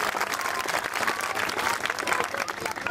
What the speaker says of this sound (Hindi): तालियों से एक बार स्वागत कर दो इनका भी।